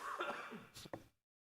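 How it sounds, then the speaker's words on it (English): A single harsh cough from a man leading an online Torah study, close to the microphone, in two quick bursts before the sound cuts to silence. "I'm sure I got to try to mute every time I cough."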